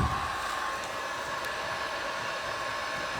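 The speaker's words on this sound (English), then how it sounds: "So if you've got a heat gun, try this." A heat gun runs steadily to strip paint from furniture, a continuous hissing airflow roar with no change in level, heard close and alone.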